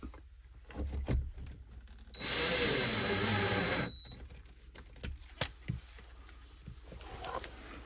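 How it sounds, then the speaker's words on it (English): A power drill whirs in one sustained burst of about two seconds, driving a star bit into wood, framed by scattered clicks and handling knocks before and after. "we're just gonna drill into the wood right there"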